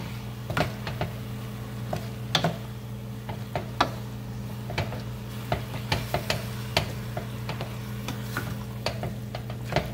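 A spoon stirs a ground turkey and sausage mixture in a pan, with scattered scraping taps over a steady low sizzle and hum, close and moderate in level, without talk.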